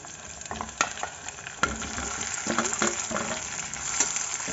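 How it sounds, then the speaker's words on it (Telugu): Onions and eggplants frying in oil in a pan for a stuffed brinjal curry, a steady close sizzle with occasional sharper stirring clatters from a utensil. "ఆనియన్స్ వేసుకుని బాగా కలుపుకోవాలి ఇప్పుడు ఆనియన్స్ బాగా ఫ్రై అయ్యి"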